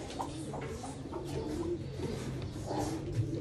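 Pigeons cooing inside a loft in the provinces, a steady murmur of several birds close by with soft repeated coos over a constant low background, and no speech.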